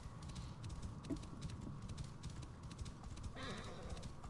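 Horse hooves in the video game Assassin's Creed Discovery Tour clip-clop at a steady walking rhythm, close and continuous over faint background ambience, with a brief horse whinny near the end.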